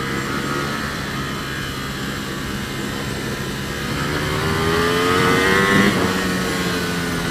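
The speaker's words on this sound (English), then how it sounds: "That was just a little poke of throttle there." Ducati Panigale superbike on a track, engine droning steadily at moderate revs before a brief light throttle blip lifts the pitch slightly, heard close and loud from onboard.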